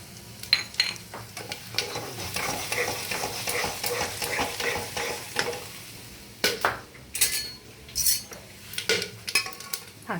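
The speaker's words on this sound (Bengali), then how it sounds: "আর এর মধ্যে দেবো গোটা গরম মশলা, 2-4টে লবঙ্গ, 2টো এলাচ, দারচিনি, শুকনো লঙ্কা একটা, তেজপাতা, অল্প একটু জিরে, গোটা জিরে, এটা দেবো আমি ফোড়নে।" Whole garam masala (cloves, cardamom, cinnamon, a dried red chilli, bay leaf) and cumin seeds temper in hot ghee for veg pulao, crackling and sizzling while a spoon stirs and clinks against the pan in irregular bursts.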